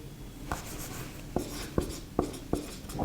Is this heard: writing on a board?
yes